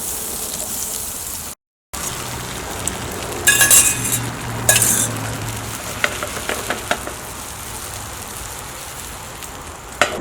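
An egg mixture fries in a pan with a steady close sizzle, broken by a few clinks and scrapes from a utensil and a short moment of silence near the start.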